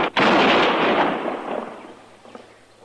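A single sharp gunshot sound effect in a radio drama Western, a loud crack followed by a long fading roar and echo.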